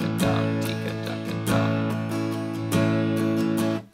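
Steady guitar strumming with sharp percussive strokes in an even, straight rhythm, bright and close, with no voices.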